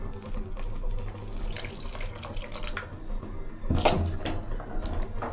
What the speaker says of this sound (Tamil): இது கூட கொஞ்சமாக தண்ணி ஆட் பண்ணிக்கோங்க